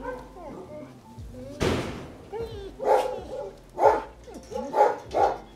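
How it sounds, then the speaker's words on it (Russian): Dogs at an animal shelter bark in several loud, close bursts, with a sharp slam partway through and people talking over them. "Это тоже собака, которая входит в первую сотню собак, которые у нас в приюте"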